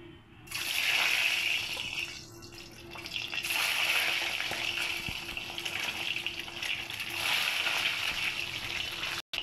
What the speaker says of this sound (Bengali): তেলটা আমার তেতে গেছে, এবার আমি ডিমগুলো একটা একটা করে ওতে ছেড়ে দেবো